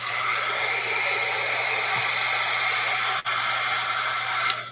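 A hair dryer blows steadily over wet acrylic craft paint, giving an unbroken, fairly loud whooshing hiss with a low motor hum underneath and one brief dip midway.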